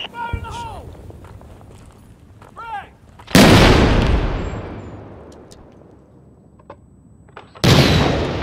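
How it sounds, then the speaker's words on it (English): In the video game Six Days in Fallujah, mortar rounds land with two loud, booming blasts, the first followed by a long rumbling decay, amid clipped voice sounds and footsteps. "Those mortars are deadly."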